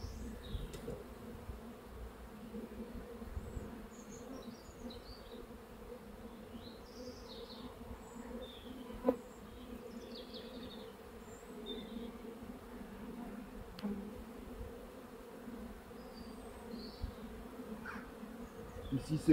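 Agitated honeybees swarm during a transfer from a Miniplus hive into a Warre hive, their buzzing a faint, continuous drone with individual bees zipping past the microphone now and then.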